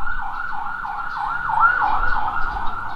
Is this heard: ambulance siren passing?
yes